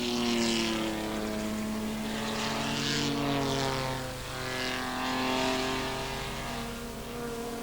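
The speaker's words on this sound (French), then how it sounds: "Voilà la Mercedes numéro 22, toute à l'attaque, toute en dérive." Mercedes race car number 22 at a 24-hour race, driven hard and sliding sideways: a loud, sustained engine roar with steady harmonic tones that swell and dip slightly as the car passes close by.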